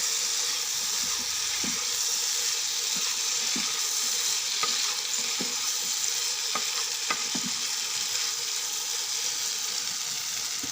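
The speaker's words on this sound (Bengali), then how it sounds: "মশলার সাথে আলু পটল ভালোভাবে মিশিয়ে নেব" Potatoes and pointed gourd, already fried, stirred into spices in a pan, giving a steady broad sizzle with occasional scraping knocks of the spoon, close and continuous, no voices.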